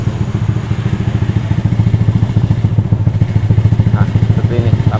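Honda Vario 125/150 motorcycle with a racing exhaust fitted with an open looper, idling up close with a steady, loud, low rhythmic putter and faint clatter, running alone throughout.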